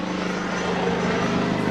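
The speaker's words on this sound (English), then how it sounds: "Helicopter man, you hear him?" A helicopter passing low over a house, a steady droning rotor and engine rumble holding level and continuous.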